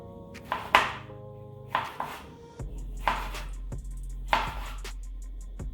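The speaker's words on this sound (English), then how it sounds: "take our jalapeno here, slice that as well" A knife slices through a jalapeno pepper on a cutting board, giving several crisp, close chopping knocks at irregular intervals, with no talking.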